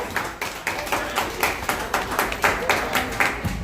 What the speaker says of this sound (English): Clap, clap. Clap for that